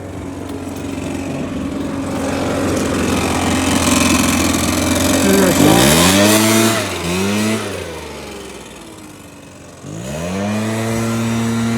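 A gas-powered blower clears debris from a surface before a softwash treatment, a loud, close engine drone that revs up and down a few times.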